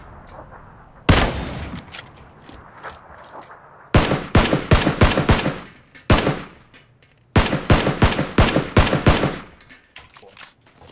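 Automatic gunfire from the battle royale game PlayerUnknown's Battlegrounds (PUBG): loud, close rapid bursts and single shots in clusters, with quieter gaps between volleys.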